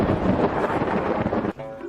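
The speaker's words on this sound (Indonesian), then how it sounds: "Oh tidak, petir datang lagi." Thunder rolls as a loud, broad rumble that sustains for over a second and then cuts off abruptly into quieter background.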